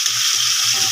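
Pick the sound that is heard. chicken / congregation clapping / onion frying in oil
onion frying in oil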